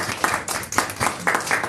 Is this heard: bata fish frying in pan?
no